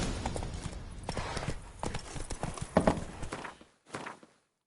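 Horse hooves clip-clop quickly at a gallop in The Witcher 3: Blood and Wine, a dense run of thuds that stops abruptly near the end, followed by one brief further burst.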